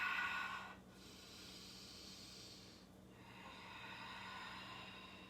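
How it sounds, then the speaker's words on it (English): Slow breaths during yoga practice, a close, airy exhale fading out, a short quiet gap, then another long, soft hissing breath under a low room hum. "Maybe you find stillness and just breathe."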